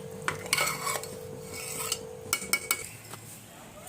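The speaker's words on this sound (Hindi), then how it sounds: "इसमें चने की दाल डाल दिया है और अब थोड़ी देर जो है इसकी भुनाई करेंगे गोश्त की" A spoon scraping and clinking in a cooking pot while mutton and chana dal are roasted, with irregular metallic scrapes and knocks up close and no talking.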